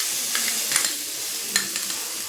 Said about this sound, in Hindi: और प्याज को भी अच्छी तरह से भून लेंगे।